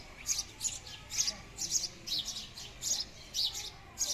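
Sparrows chirp in quick, bright bursts that repeat roughly every half second, clear and fairly close over a quiet outdoor background.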